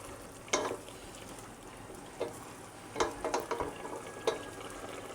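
Bottle gourd and prawns fry in a pan under a low sizzle, with several sharp scraping and clattering strokes of a spatula stirring at irregular intervals, no talking.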